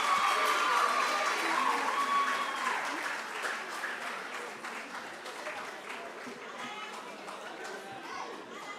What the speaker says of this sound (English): Let's clap for all of us.